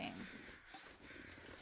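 Crows caw in the snowy wilderness of the survival game The Long Dark, the calls thin and fairly distant over a steady wind-like hiss, with a voice faintly present beneath.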